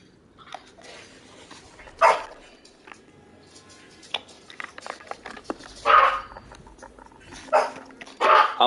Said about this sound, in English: I'm gonna mute my mic so you don't get the dogs assaulting your ears